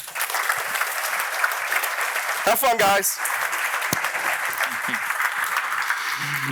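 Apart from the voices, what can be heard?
audience round of applause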